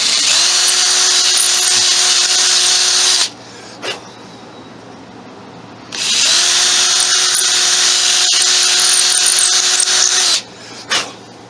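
An old blue Ryobi cordless drill on a lithium battery whirs loud and close in two sustained runs of about three and four seconds, each winding down with a brief click and quiet gap.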